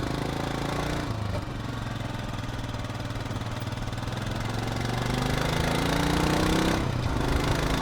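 Royal Enfield Himalayan motorcycle engine cruising on a commute at around 80 km/h, a steady mid-pitched drone with wind rush throughout and a slight pitch rise near the end, no voices.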